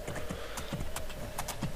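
Horse hooves clip-clop at a steady trot in the video game Two Worlds, several close, clear beats in a regular rhythm over a faint game ambience.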